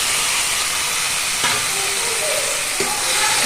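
Greens and boiled lentils frying in a pan with reddened fried onion, stirred with a spoon: a steady loud sizzle with a couple of sharp scraping strokes against the pan, no talking.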